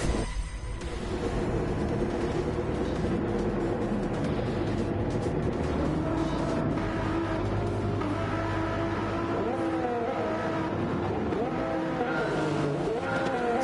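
Race car engines roar and tires squeal in Gran Turismo 7, a loud continuous engine drone with rising and falling revs and screeching skids, no talking over it.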